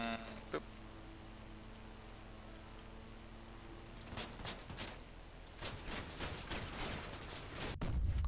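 Weapon fire from a vehicle-mounted gun in the Crossout vehicle combat game, heard as a run of sharp, irregular bursts of discharges in the second half over a steady engine drone.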